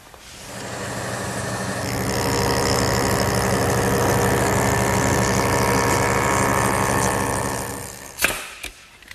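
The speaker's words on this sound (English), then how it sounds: "I have to bevel the back edge so that it'll fit tightly against the riser. And for that, once again, I'll turn to the joiner." A woodworking jointer bevels the back edge of stool treads, running as a loud steady motor whine for about eight seconds before the sharp knocks of the cut and shutdown.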